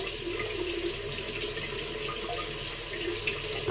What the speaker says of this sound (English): So I'll be dipping the knot, completely submerging it